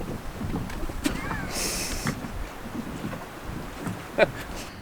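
Wind buffets the microphone aboard a sailboat in a steady rumble with occasional gusts and small knocks, no talking.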